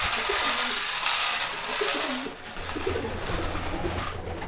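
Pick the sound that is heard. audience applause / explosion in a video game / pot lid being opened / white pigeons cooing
white pigeons cooing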